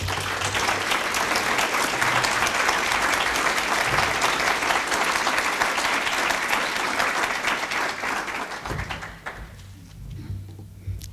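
A lecture audience applauds steadily to welcome a speaker to the podium, a dense, sustained wash of clapping that fades near the end.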